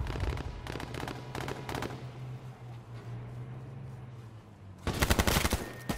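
Rapid bursts of automatic gunfire in the video game H1Z1, two loud clusters of shots separated by a quieter stretch with a low hum.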